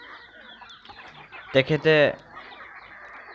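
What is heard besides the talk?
local chickens clucking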